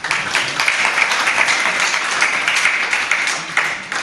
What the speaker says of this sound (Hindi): जैसे आप लोग व्रत लेने के लिए तालियां बजा रही हो।